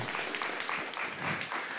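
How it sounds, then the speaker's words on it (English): Audience applause after a speaker introduction at the USENIX Enigma security conference, a steady dense wash of clapping lasting about two seconds at moderate level. "Can we give them a round of applause?"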